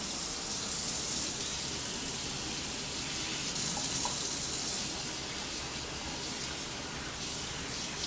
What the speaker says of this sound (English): I'm going to give these a quick rinse